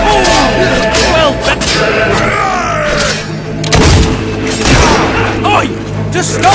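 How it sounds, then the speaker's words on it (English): Gunfire and explosions from a Fable III battle, with loud booming thuds and rapid shots throughout, mixed under a character's shouting and other voices. "Just stop all that shooting nonsense and give up."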